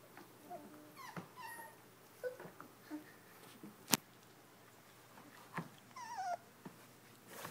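Puppies whimper, yip and squeak softly while playing, scattered small cries close by in a quiet room, with one sharp click midway.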